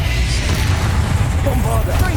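A Confringo fire spell blast in Hogwarts Legacy roars as a dense, continuous rumble with crackling layers over a steady low boom, loud and close throughout a chaotic spell battle.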